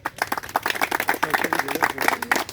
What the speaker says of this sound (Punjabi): ਆਓ ਆਪਾਂ ਤਾੜੀਆਂ ਨਾਲ ਉਹਨਾਂ ਦਾ ਸਵਾਗਤ ਕਰੀਏ